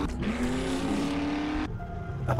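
In the video game 7 Days to Die, a car engine revs and its pitch climbs in a steady, close drone, cutting off abruptly after a couple of seconds with a brief voice at the end.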